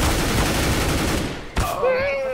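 Gunfire in Counter-Strike: Global Offensive, a dense rattling fusillade of rapid shots that cuts off sharply, followed by a brief tonal game sound with a voice faintly present.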